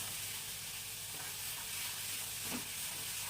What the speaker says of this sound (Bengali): যতক্ষণ না এটা ভাজা ভাজা হচ্ছে ততক্ষণ এটা নাড়িয়ে যেতে হবে।